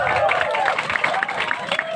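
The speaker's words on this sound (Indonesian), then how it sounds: "tepuk tangan dong" A crowd applauds and cheers at a calonarang temple performance at Pura Dalem Agung in Bangli, Bali, with steady clapping through the whole two seconds and voices mixed in.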